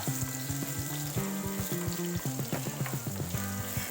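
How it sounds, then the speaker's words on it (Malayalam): Soya chunks frying in oil on a high flame make a constant loud sizzle, broken by rhythmic scraping and tapping from a stirring utensil throughout. "ഹൈ ഫ്ലെയിമിൽ തന്നെ"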